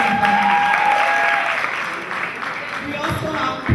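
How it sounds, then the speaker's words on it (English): Audience applause at a university student challenge final, steady clapping that fills the hall for several seconds, with a faint tone briefly audible early on before it tapers slightly. "Please let's clap for him."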